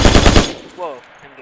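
Dense machine-gun fire in the Hell Let Loose World War II shooter rattles loudly at close range for about half a second, then stops; a brief voice-like sound follows and the clip fades into quiet ambience.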